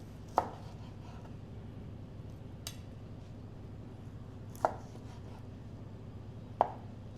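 A knife cuts into grilled chicken on a plate, giving a few sharp, isolated clicks of the blade against the plate spaced seconds apart over a low steady background hum, close and fairly quiet.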